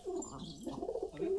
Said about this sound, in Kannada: ಇದು ನೋಡ್ರಿ ಸೂಪರ್ ಆಗೈತೆ ನೋಡ್ರಿ ಪಾರಿವಾಳ